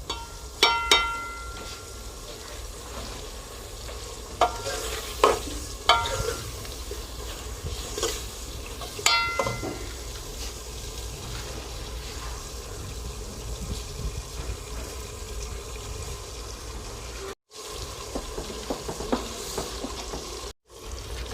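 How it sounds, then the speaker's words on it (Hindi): Potatoes fry in masala in a pan for an aloo baingan curry, a steady sizzle broken by several scraping stirs of a spoon, close and fairly loud, with two short dropouts near the end and no talking. "2-3 मिनट इसे आलू भुनेंगे हम ताकि आलू नरम हो जाए।"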